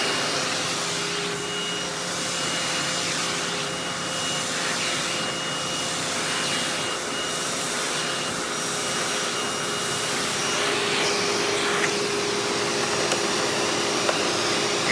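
A Hoover Windtunnel Bagless U5786-900 Anniversary Edition upright vacuum cleaner runs steadily and loudly for the whole stretch, a constant broadband whoosh with a faint motor whine and no talk.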